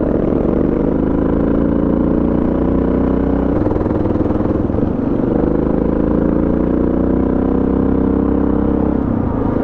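Suzuki DR650 dual-sport motorcycle engine droning steadily up close while riding fast dirt roads, a loud continuous mid-pitched rumble with slight shifts in pitch and no talk.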